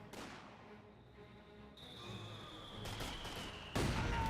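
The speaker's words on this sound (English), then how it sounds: "And an excellent mortar hit there onto the Volkswageners with STGs" Mortar shell striking infantry armed with StG rifles in the Company of Heroes 2 strategy game, a dense crackle of battlefield gunfire building to a loud sharp impact burst near the end.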